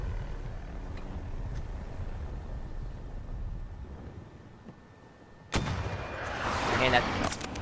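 Battlefield gunfire rumbles in the distance with low booms, then a loud burst of nearby shooting and blasts breaks out suddenly and continues to the end.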